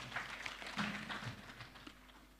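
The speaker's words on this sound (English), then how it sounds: "Please clap for yourselves." At a Ugandan water utilities regulators' conference, an audience gives faint, distant applause: a dense patter of many hands clapping for a couple of seconds before it thins out.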